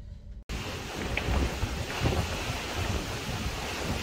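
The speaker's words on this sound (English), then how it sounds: "Well, a very windy deck." Strong wind buffets the microphone on an open ferry deck, a loud continuous roar with water rushing beneath, starting abruptly after a brief silence.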